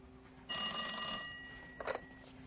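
A telephone bell rings once in a short electronic burst, fairly faint and slightly distant, in a quiet room, followed by a brief rattle.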